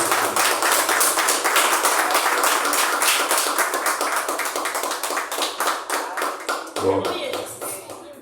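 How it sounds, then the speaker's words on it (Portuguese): A church congregation claps together in rhythmic bursts to welcome the pastor, dense and close for most of the stretch, then thinning to scattered claps near the end, with voices murmuring underneath. "Vamos estar recebendo o pastor Luciano com palmas para o Senhor Jesus."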